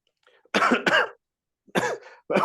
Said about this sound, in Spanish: Perdón por la tos, ya saben que tengo tos.